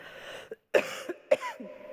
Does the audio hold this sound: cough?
yes